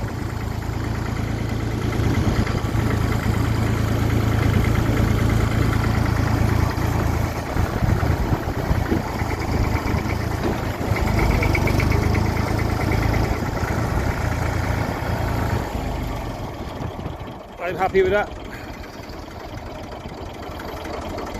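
A Massey Ferguson 35 tractor engine ticks over at a low idle of about 600 revs, a steady close rumble that dips briefly near the end while a voice speaks.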